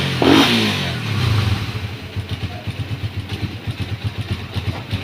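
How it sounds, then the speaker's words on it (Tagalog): Raider 150 Fi motorcycle with a very low idle that tends to stall, giving one sharp rev near the start that drops away into a slow, uneven, pulsing idle nearby. "So sobrang baba ng idle mga tropa, namamatay siya."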